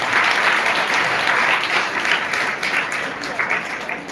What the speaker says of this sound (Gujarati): તો એમને પણ આપણે એકવાર તાળીઓથી વધાવીએ.